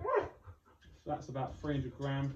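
A pet dog named Monty whines and gives short yelping barks close by, mixed with someone talking over it.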